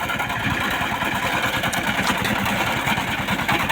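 A pesticide sprayer engine with a 500-litre tank runs loudly and close by with a steady, rapid chugging rhythm.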